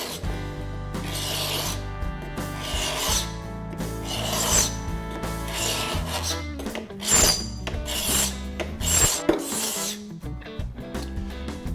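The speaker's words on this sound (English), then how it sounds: "You're gonna take a common paint scraper or hand scraper, and we're gonna actually use this to take care of these corners." Hand scraper pulled along the grain of a wood floor into a corner, giving repeated close, raspy scraping strokes in a steady rhythm over faint background music.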